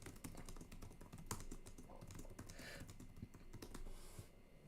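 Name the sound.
typing on a computer keyboard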